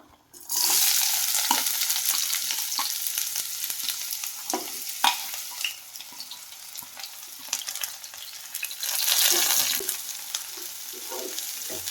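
Chopped onion, curry leaves and green chilli hit hot oil in a pan and sizzle steadily, with a loud initial hiss, scattered crackles and spoon stirring, and the sizzle swelling again near the end.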